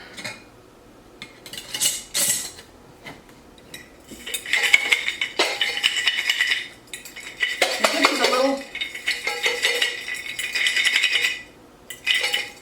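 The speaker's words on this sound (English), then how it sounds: "I'm going to give these a little bit of shake to kind of distribute the different items" A lidded jar holding cranberries and cinnamon sticks is shaken in several separate bursts, each a loud rattling clatter, with short quiet pauses between them.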